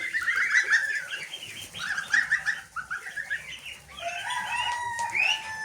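Poultry and ducklings on a farm make a lively chorus of close, loud clucking, gobble-like calls and high peeping, with overlapping bursts that continue without pause and no talking.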